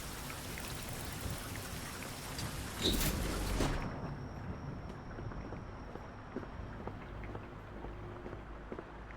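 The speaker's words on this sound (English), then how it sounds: "It started raining." Nighttime rain pours steadily outside a cozy Japanese convenience store, an even, close hiss with a brief louder burst before settling into a softer continuous patter.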